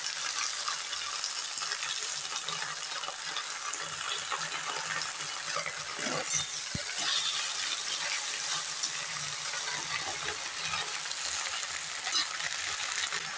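Jute greens frying in a pan with a green chilli, a continuous close crackling sizzle with occasional stirring scrapes and clinks, steady throughout.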